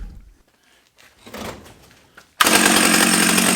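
A 45-year-old Solo 660 AV chainsaw being restored after rescue from a tip: a few faint clunks and rustles, then the engine catches abruptly and roars loud and close, running at a steady high pitch.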